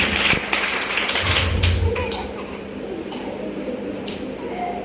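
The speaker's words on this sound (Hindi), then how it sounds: "वो जिंदगी बख्श कलाम जो आज हमारे दरमियान में उतरा है, उस कलाम के लिए एक बार भरपूर तालियां" A congregation at a church service applauds for several seconds, a dense clapping that gradually thins out, with a voice speaking over it.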